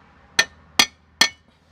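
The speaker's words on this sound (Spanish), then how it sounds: "Con un martillo, dan unos golpes ligeros." Light hammer taps on a part of a 2010 Ford Focus during a repair, three sharp metallic strikes evenly spaced about a beat apart, followed by a fainter fourth tap, close and clear.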